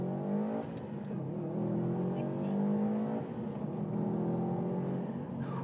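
A car with no launch control accelerating hard from a standstill on pavement in a 0-100 run, engine notes climbing repeatedly through the gears in a sustained close roar, with a faint voice in the background.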